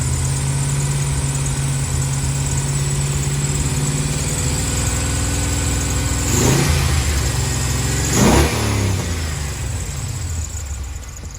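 A hot car engine idles steadily up close, rumbling low, with two brief revs rising and falling in the later part.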